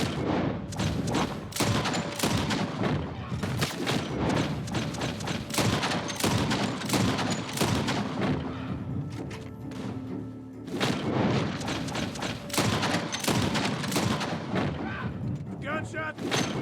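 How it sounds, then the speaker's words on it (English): Gunfire in the Red Dead Redemption 2 video game: loud, rapid bursts of shots and booming reports crackle almost nonstop, easing briefly midway before the barrage resumes. "Gunshot!"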